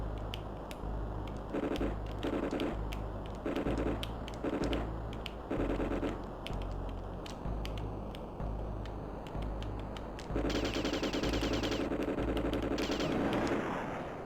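Rapid bursts of jet machine-gun fire in the SNES flight combat game Turn and Burn: No Fly Zone, repeating in short clattering volleys over a steady engine drone, loud and close, with a denser burst near the end.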